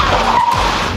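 A car brakes hard during an ABS comparison test, its tires skidding and squealing loudly and close for about a second, a steady harsh screech over road and engine rumble with no talking.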